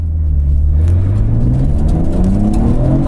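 A Nismo R34 Nissan Skyline GT-R Z-tune engine revs and accelerates from 3,500 rpm, its pitch climbing steadily in a loud, continuous whirring roar.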